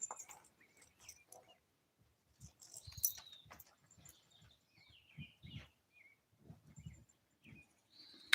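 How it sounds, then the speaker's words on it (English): Several short bird chirps and calls scattered through a quiet outdoor scene, with low thumps and rustling underneath. "yes, there's bird sounds."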